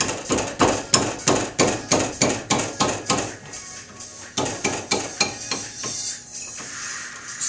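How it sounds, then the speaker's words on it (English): Metal-on-metal hammer blows ring out at close range in a quick, regular rhythm as a Nissan Altima's brake caliper brackets are knocked loose, about a dozen sharp strikes with a short pause partway through. "Just a few hits and they'll come off easily"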